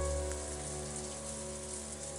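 Steady rain patters without a break in the Umineko: When They Cry visual novel, set in a rainy golden land, a soft even hiss over a low sustained musical drone.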